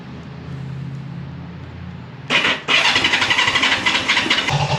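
A Honda CB360 vintage motorcycle engine fires up on the electric starter after a brief crank, then settles into a loud, steady, lumpy idle that continues to the end.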